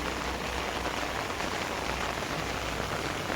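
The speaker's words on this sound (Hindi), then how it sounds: "तो सबुपटे वर्षा आसूची" Heavy monsoon rain pours steadily in a village during a red alert, a dense, loud, unbroken wash of drops hitting surfaces without any pause.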